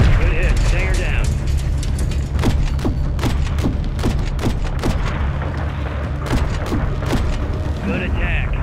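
Missile strikes in Call of Duty: Modern Warfare 3 land as repeated heavy booms and thuds under constant battle noise, with radio voices and game dialogue running throughout.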